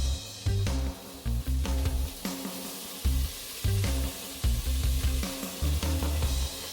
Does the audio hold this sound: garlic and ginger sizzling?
yes